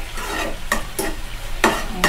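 Thai food being stirred in a frying pan, with scraping strokes over a steady sizzle; four distinct stirs come close and loud in quick succession.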